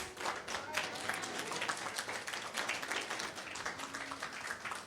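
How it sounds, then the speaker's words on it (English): Applause from an audience at a press conference for an ASAP live event in Toronto, with dense, steady clapping throughout and a murmur of voices beneath. "Also, a round of applause to ABS-CBN Global Head of Events, Mr. Ricky Resurrection."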